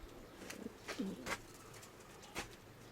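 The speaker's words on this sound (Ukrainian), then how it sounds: "Ось дві голубочки." Pigeons or doves cooing close by in a quiet setting, a few soft, low coos spread across the moment with faint background ambience and no talk.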